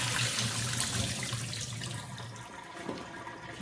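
Water is drained off food during cooking, a continuous running, splashing pour that fades slightly toward the end, close and moderately quiet with no talking.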